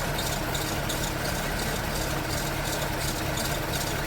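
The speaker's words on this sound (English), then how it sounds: "It's just gonna fire up and idle." A 1984 Dodge Mini RAM pickup, parked for 25 years, idles steadily with a constant low rumble and mechanical clatter, loud and close, no speech.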